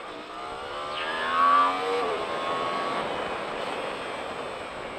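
A Yamaha R1 motorcycle accelerates hard on a track, its engine whine climbing through the gears and peaking loudly before settling into a steady high-revving drone.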